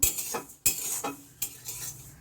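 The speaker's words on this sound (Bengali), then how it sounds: "এই কড়ার মধ্যে এই যে তিলটা আমি এখানে একটু হালকা করে ভেজে নেব" Sesame seeds lightly dry-roasting in a wok, heard as short scraping stirs of a utensil against the pan, about four strokes, close and fairly quiet with no talking.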